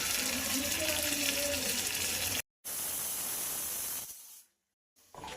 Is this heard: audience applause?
no